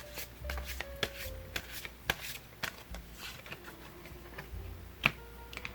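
Tarot cards are shuffled and drawn at close range, giving quiet, sparse taps, flicks and soft slides of card stock with brief sharper snaps between them in an otherwise hushed room.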